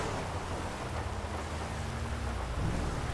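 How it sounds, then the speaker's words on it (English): Heavy rain with rolling thunder in the police driving game Dept. of Justice Cops, a dense continuous downpour hiss over deep low rumbling that swells slightly near the end. "It is raining pretty bad"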